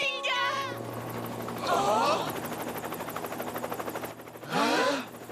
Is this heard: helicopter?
yes